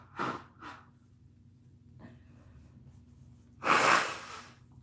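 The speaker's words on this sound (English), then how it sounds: "I'm gonna blow my nose, I'm sorry." A close, loud nose blow near the end, preceded by two brief sniffs or snorts early on, with quiet room noise between.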